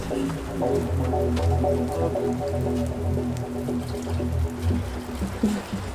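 Rainwater splashes and trickles into a container, an uneven watery pour with dripping and sloshing, close by and fairly loud, running continuously under a low background hum with no talk.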